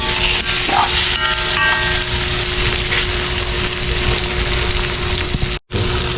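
Onions sautéing in hot oil in a home kitchen pan, a loud dense continuous sizzle with faint scraping, alone, cutting out briefly near the end.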